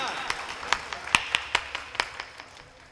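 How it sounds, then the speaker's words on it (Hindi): Sparse, faint audience clapping at a Hindi stage event, a dozen or so scattered sharp claps spread unevenly, thinning out toward the end. "ताली बजाइए"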